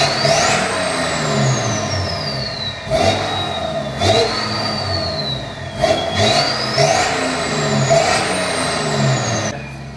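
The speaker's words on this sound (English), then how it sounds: "So that's what a 335 sounds like if you give exhaust some modification." A BMW 335d diesel with a modified exhaust revs hard close by in repeated surging bursts, the engine note climbing and dropping between blips, loud and unaccompanied by talk.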